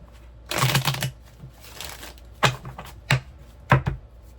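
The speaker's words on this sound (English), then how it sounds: "One more shuffle." A deck of tarot cards is shuffled by hand in short, quiet riffling bursts, about four separate flurries with brief pauses between, with no talking.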